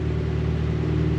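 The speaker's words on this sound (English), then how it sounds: "Flip the throttle a couple times, just barely." A Mazda Miata race car engine with a slightly lean hesitation runs close by. It makes a steady, loud low drone, with no distinct rise in revs over the short moment.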